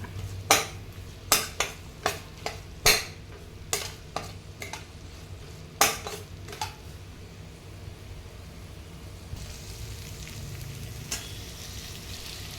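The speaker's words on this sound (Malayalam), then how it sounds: "തക്കാളി ഇനി നല്ലതുപോലെ വഴണ്ട് വരണം നല്ലതുപോലെ ഫ്രൈ ആയി വരണം" Tomatoes frying with onions in a masala, with a string of sharp spoon-against-pan stirring clacks over a steady low sizzle, the clacks fading out and leaving a quieter continuous frying hiss toward the end.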